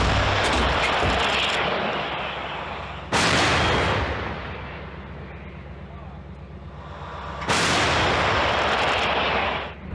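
Two massive blasts from a Krab self-propelled howitzer about five seconds apart, each a sudden booming crack followed by a long rumbling decay, close and very loud.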